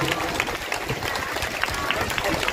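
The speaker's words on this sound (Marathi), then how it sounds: "जोरदार टाळ्या." Loud, continuous applause from an audience at a Buddhist kathin robe-offering gathering in Nanded, a dense, steady wash of clapping with a crowd murmur underneath throughout.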